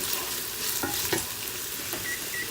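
A spoon stirs continuously through a hot pot of sizzling sauteed vegetables just after flour goes in for a vegan tomato bisque, with steady frying hiss and scraping strokes up close and no voices.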